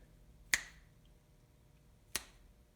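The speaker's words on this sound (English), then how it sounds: "All you have to do is snap your fingers" Two crisp finger snaps, well apart, sharp and close in a quiet room, the first a little louder than the second.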